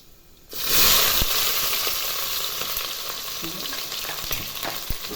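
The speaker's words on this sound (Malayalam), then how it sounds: "നമുക്ക് ഉള്ളി ഇടാം" Onions dropped into hot oil in a pan with ginger for vegetable pulao break into a loud, steady sizzle after a brief quiet start, hissing continuously close up with occasional crackles.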